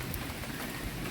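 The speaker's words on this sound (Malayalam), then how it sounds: "മഴ നമ്മുടെ പുറകെ കൂടിയിട്ടുണ്ട്." Rain falls steadily near a cave temple outdoors, a soft, continuous patter and hiss at low level, with no talking.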